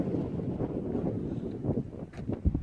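Wind gusting outdoors on a walk, a steady rumbling buffet across the microphone with rustling swells and no speech.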